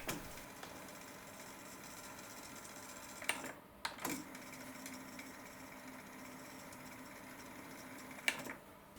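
A cassette deck rewinds a Maxell UD II type II tape, producing a quiet, steady mechanical whir with a couple of brief clicks and knocks along the way.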